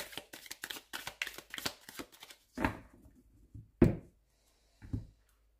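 Oracle cards are shuffled by hand in a quick run of crisp riffling flicks, then a few softer taps and a sharp knock as the deck is cut and set down, close and fairly quiet.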